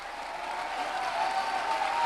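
A church congregation claps their hands, a dense sustained burst of applause from many people that swells slightly over two seconds.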